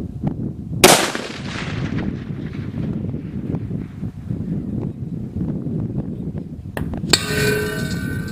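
A single sharp gunshot from a SAKO TRG 42 rifle in .338 Lapua cracks loudly at close range, then decays into wind buffeting the microphone, with another sharp impact-like burst near the end.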